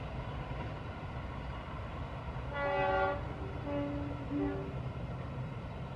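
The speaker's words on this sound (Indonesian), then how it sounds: "kereta terakhir yang kita shoot di spot Tiber Kalimenur, ada KA Taksaka." KA Taksaka passenger train passing a rail curve at Kalimenur, with a steady rumble of wheels on track and a distant two-tone horn sounding in a few short blasts midway through.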